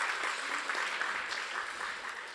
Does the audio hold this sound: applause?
yes